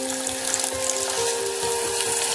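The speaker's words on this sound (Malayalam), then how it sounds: "ഇപ്പൊ നമുക്ക് കുറച്ച് പാൽ ഒഴിച്ചു കൊടുക്കാം." Milk poured into a cooking pan over raw mango pieces for a Kerala-style curry, giving a steady, close liquid splash and gentle bubbling hiss with a faint tonal hum, no talking.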